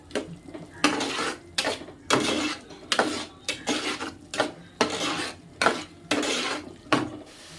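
Ginger-garlic paste being stirred in a pan for tomato rice, a metal spoon scraping and knocking against the pan in repeated bursts, close and clear, with no talking.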